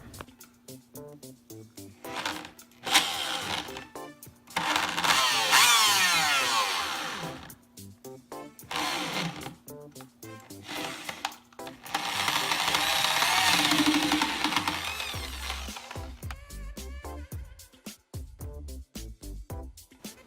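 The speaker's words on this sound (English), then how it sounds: "The drill barely had enough power just to get it through." A power drill whines and strains in repeated bursts, its motor bogging down and revving as it grinds through plastic, with short pauses between runs.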